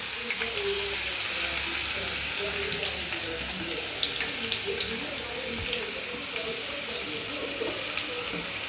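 Onion sizzles in hot oil in a pan for a Maharashtrian gavar bhaji, a steady hissing crackle with scattered pops that continues under a voice speaking throughout.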